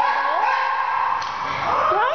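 A small puppy at an animal shelter yips and whimpers close by, making continuous high, wavering whines that slide up and down in pitch.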